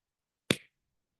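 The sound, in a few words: hand clap demonstrating sound in space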